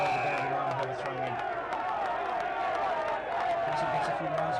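A football crowd roars continuously in the background while a commentator talks over it, the noise swelling with scattered cheers.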